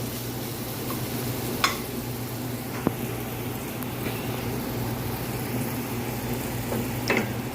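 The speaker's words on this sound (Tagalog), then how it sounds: "in a pan, naglagay na ako ng oil and lagay natin yung garlic" Garlic fries in oil in a pan, a quiet, steady sizzle running throughout, broken by a few soft clinks of a utensil against the pan.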